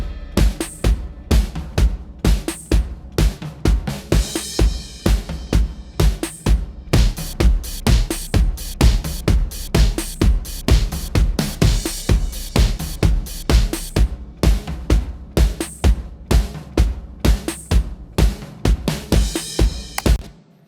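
Drum mix layering Rhythm 77 and DMX drum machines, boom and acoustic drums, playing a steady, punchy beat with loud repeated kick and snare hits and bright cymbals for about twenty seconds, no voices.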